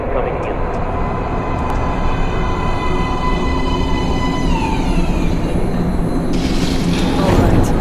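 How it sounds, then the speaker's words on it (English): In the video game Metro Last Light, a metro train rumbles steadily into a station platform, a loud continuous low roar and screech with rising hiss toward the end. "Please step away from the edge of the platform. Train coming in."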